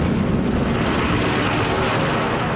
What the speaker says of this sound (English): Planes from a massive armada surprise the U.S. Pacific Fleet at Pearl Harbor.